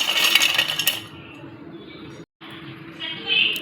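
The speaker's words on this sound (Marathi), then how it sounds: "खोबरे पण डिशमध्ये काढून घेऊयात" Roasted coconut being scraped and tipped from a pan into a dish gives a dense, bright metallic clatter up front, then a softer scraping hiss that returns near the end.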